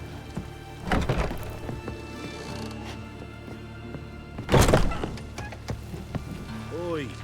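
Rain falling in The Witcher 3 game world, a steady hiss under city ambience with a couple of louder thumps, and character voices talking over it.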